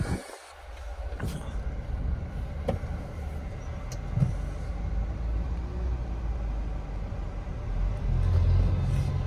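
A Hyundai Verna with a hard-steering fault rumbles along on a test drive, a steady low engine and road drone from inside the cabin, growing slightly louder near the end.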